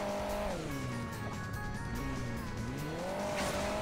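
A game car's engine in Hill Climb Racing 2 revs continuously, its pitch rising and falling as the throttle is worked, with a bright tire squeal layered over the steady motor drone.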